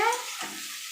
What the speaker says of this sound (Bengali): আর পেঁয়াজ একসাথে ভাজছি